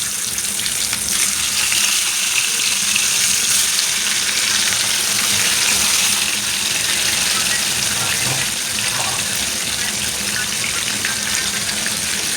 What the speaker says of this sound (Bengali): তেল গরম হয়ে গেছে বন্ধুরা, মাছগুলি ভেজে নিচ্ছি।